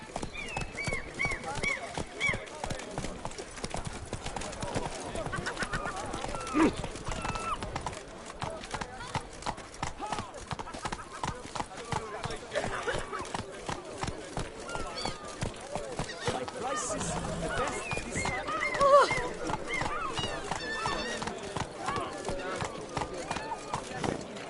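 Horse hooves clip-clop steadily at a gallop in a PS4 video game, with occasional whinnies, continuing throughout under frequent talk from a player.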